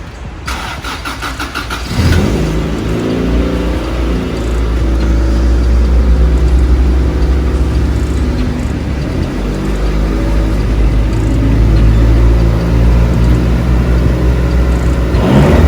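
A Honda Civic EF track build on freshly installed coilovers starts up and drives off, its engine rising into a steady, loud mid-range drone with shifting harmonics as it pulls away nearby; no one talks.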